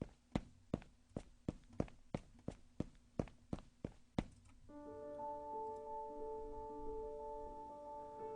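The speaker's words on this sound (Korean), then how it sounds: "발소리가 들리는 것입니다." Footstep sound effect: about a dozen sharp, evenly spaced steps close by on stairs, then they stop and a steady tonal hum with a low rumble takes over.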